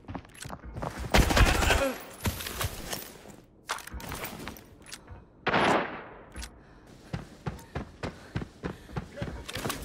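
SVD rifle gunfire in Arena Breakout, loud sharp shots that come in bursts, with a heavy cluster early and another near the middle, then a run of evenly spaced cracks toward the end, mixed with footsteps and movement.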